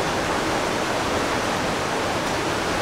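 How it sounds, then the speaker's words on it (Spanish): A river flows beside a hotel in Mindo, Ecuador, giving a constant, even rushing hiss that stays steady and fairly close throughout, with no speech over it. "en el caso que te canses de noche de escuchar el río, no creo que te canses"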